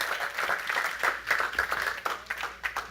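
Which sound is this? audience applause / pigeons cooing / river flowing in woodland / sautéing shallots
audience applause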